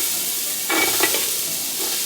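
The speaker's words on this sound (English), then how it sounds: "That's a good little sizzle." Onions sizzle in hot olive oil in a pot for chili, a loud steady frying hiss with a brief burst of stirring clatter partway through.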